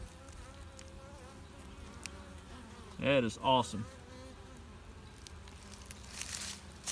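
Honeybees buzzing steadily around a hive entrance on an early spring day, foragers returning with loaded pollen baskets; a constant insect drone with a brief exclamation from a nearby voice partway through.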